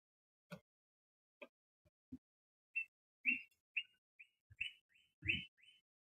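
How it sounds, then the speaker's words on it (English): Several birds chirp outdoors in short, scattered, faint calls, about ten quick notes spaced through six seconds, distant and alone with no talking over them. "Oh, the birds are just singing."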